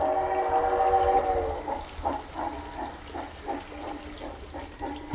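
A TH&B O-scale model train with Kadee couplers rolls around a layout track, first with a steady tonal whine, then a series of evenly spaced rhythmic clicks as the cars pass over rail joints, close and moderately loud.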